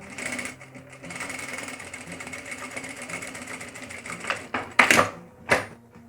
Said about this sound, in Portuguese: venho com uma costura com um pé de máquina aqui